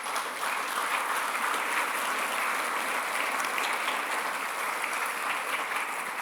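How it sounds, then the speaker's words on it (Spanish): A church congregation claps loudly and steadily for several seconds, a dense, even wash of applause with no break. "¿Le podemos dar un fuerte aplauso al Señor?"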